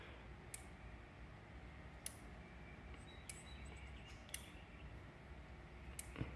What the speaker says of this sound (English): So that clicking is what was causing the issue on my bike.